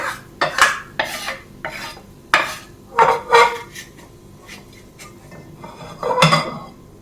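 A metal spoon scrapes and clanks against a pan while fried onions are lifted out of hot oil for aloo pulao, making irregular loud knocks and scrapes over a faint sizzle.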